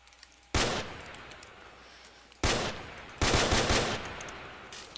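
FN FAL semi-automatic rifle fired in a Minecraft guns mod, single loud shots with echoing tails, the second shot followed quickly by a third, no talking.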